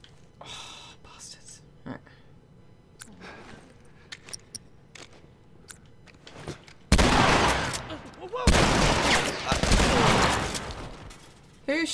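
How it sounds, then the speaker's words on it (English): Heavy gunfire in The Last of Us video game: after a quieter stretch with scattered clicks and whispery sounds, loud dense bursts of shots erupt in the second half, close and intense. "Who's shooting me?"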